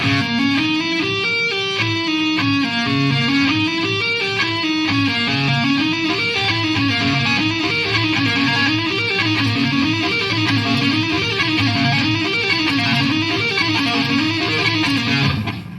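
An electric guitar plays a repeating pattern of quick hammer-ons and pull-offs, the notes rising and falling in a steady cycle, clear and alone.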